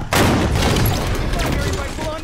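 Gunfire in the video game Halo 5 after a magnum pistol is picked up: a loud, close blast opens a sustained roar of shots and explosions that carries through the whole stretch.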